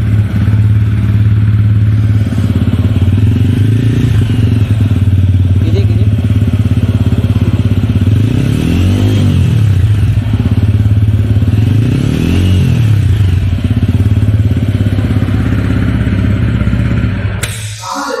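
Close, loud TVS Ronin 225 BS6 motorcycle engine idling, then revved twice in rising and falling throttle blips over its steady low rumble, with some clatter and a brief thump at the end.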